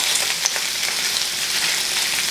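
Shrimp sauté in a hot pan with a steady, close, broadband sizzle that holds evenly throughout, with small crackles and pops scattered across it and no voices.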